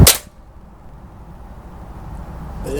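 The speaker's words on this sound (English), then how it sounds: "safety's going off and the first shot's going" A Beeman 1357 air pistol fired at a target, one sharp loud crack right at the start, followed by quiet room tone and a faint click at the end.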